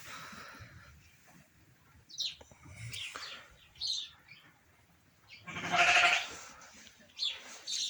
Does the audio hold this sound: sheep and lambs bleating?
yes